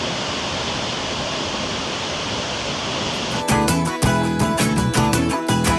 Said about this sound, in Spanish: Se oye fuertísimo la caída de agua.